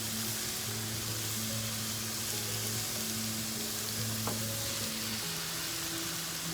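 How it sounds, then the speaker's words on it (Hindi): Minced meat (keema) fries with garlic and ginger in a pan, giving a steady, even sizzle with occasional faint stirring sounds. "थोड़ा सा भूनेंगे यहाँ तक इसका कलर चेंज हो जाए। यहाँ कीमा हमारा फ्राई हो चुका है।"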